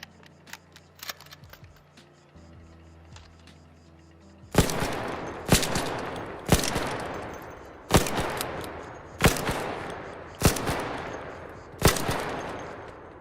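Seven loud, evenly spaced gunshots from a Doom engine video game, each with a sharp attack and a decaying tail, follow a quieter stretch of faint clicks and low hum.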